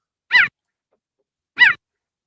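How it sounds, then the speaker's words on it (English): A cheetah gives two short, bird-like chirping calls about a second apart, each clear and isolated against silence. "Cheetah. Cheetah, my friend."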